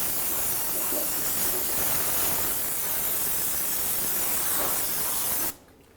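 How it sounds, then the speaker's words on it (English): Brake cleaner is sprayed onto a car part during a 2007-2012 Nissan Altima power steering pressure sensor replacement, a loud continuous aerosol hiss lasting about five seconds before cutting off sharply. "Make sure you clean it off with the brake clean."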